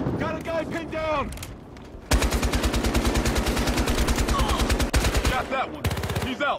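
Rapid automatic gunfire in the video game Battlefield, loud sustained bursts with brief pauses, and a voice calling out briefly early on.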